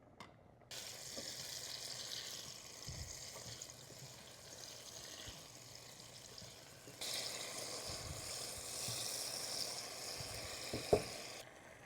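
Cherry tomatoes cook in a pan until they burst. A quiet, steady sizzle and bubbling runs throughout, with faint clicks and a slightly louder stretch later on.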